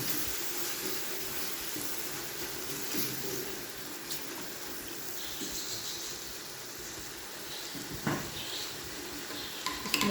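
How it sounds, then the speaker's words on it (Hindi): Spices frying together in a pan for beef keema pulao, a faint, steady sizzle with occasional light scrapes and clinks, rather quiet and close throughout. "इनको हम साथ साथ फ्राई करेंगे।"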